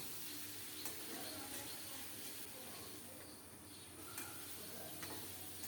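Curry masala seasoned with salt and half a spoon of turmeric cooks under a lid in a pan, giving off a steady, close hiss of sizzling with faint ticking pops throughout.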